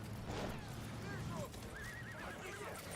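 Horse neighs and whinnies in the Battlefield 1 shooter, a couple of rising, wavering calls standing out over steady battlefield rumble and low game noise, with a voice speaking in the background.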